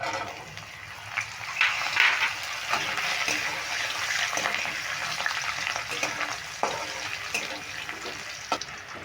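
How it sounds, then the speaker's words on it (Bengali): Boiled chickpeas stirred into a sizzling tempering in a pan, making a steady frying hiss with scraping stirs and brief louder bursts near the start, close by, with no one talking. "ছোলাটা একটু নেড়ে নিলাম ফোড়নের সঙ্গে"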